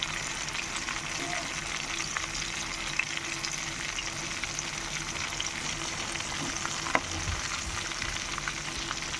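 Crabs fry in a pan with a dense, continuous sizzle and crackle, close and steady, with a few small pops and stirring noises.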